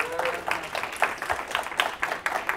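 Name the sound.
audience applause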